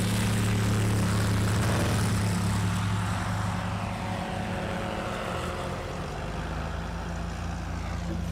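Legend light aircraft at a short-takeoff-and-landing event in Gallatin, Tennessee, with a propeller engine droning loud and close, its steady tone easing and thinning over several seconds as it moves away.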